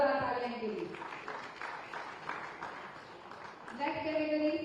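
Audience applause at an award ceremony during a security leadership summit in a hall. The steady clapping fills the gap between stretches of an announcer's voice, rising and fading as the talk resumes.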